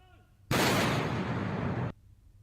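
A tiffin bomb is detonated and destroyed in one loud, roaring blast that erupts suddenly after quiet, holds for about a second and a half, then cuts off abruptly.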